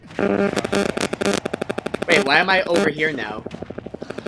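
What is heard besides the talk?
electric fan running, sounding like a helicopter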